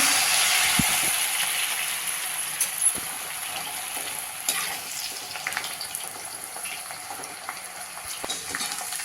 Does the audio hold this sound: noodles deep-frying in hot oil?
yes